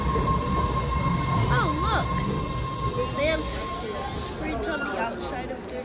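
A Boston Red Line subway car rumbles along, with a loud, steady low roar and wheels squealing in rising and falling whines, plus a constant electrical tone.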